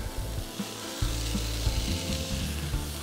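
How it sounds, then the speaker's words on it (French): Lardons sizzle steadily in a hot frying pan, a dense crackling hiss with a low rumbling bed that grows fuller about a third of the way in and continues without any voices. "je fais chauffer une autre poêle là, dans laquelle je vais mettre les lardons"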